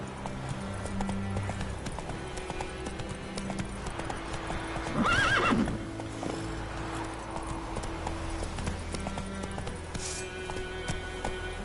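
In the video game Witcher 3, a horse's hooves clip-clop in a steady galloping rhythm throughout, with a short whinny in the middle, at a moderate level.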